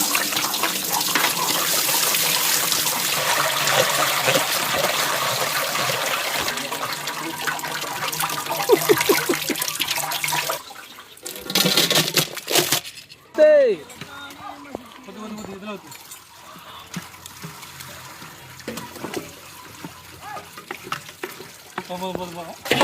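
Watermelon juice gushes and splashes steadily while fresh juice is made at a farm, a loud continuous liquid rush that later breaks into intermittent trickles and drips, with people talking throughout.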